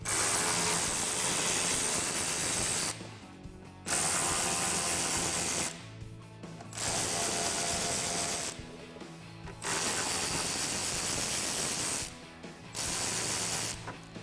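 A ratchet wrench removes 7mm bolts from the rear diffuser of a 2018-2020 Mustang, giving five close bursts of rapid clicking, each lasting about two to three seconds with brief pauses between.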